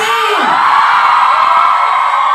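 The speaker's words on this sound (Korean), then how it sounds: "박수 주시면. 박수." Concert audience at a live show cheering and whooping loudly without pause, a dense, close wall of crowd noise with high shouts rising above it.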